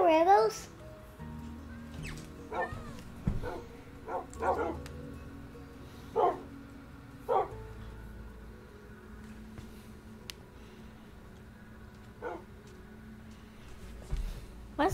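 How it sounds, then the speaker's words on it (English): Dogs in a video game bark and yip in short separate bursts scattered across the scene, fairly close, with a soft steady background hum and occasional voices talking over them. "And I have my dogs."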